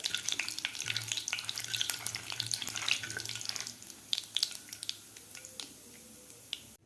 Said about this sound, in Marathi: जिरे आणि मोहरी व्यवस्थित आपल्याला फुलू द्यायचे आहे, चांगले फ्राय करून घ्यायचे आहेत